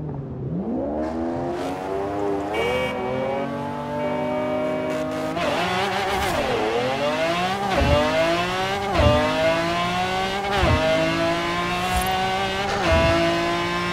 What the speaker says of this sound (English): The car's pretty fast, Matt.